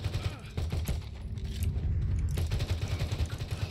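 Gunfire in Valorant, heard as a steady, close run of rapid shots over a busy game soundscape, with brief pauses, running loud throughout.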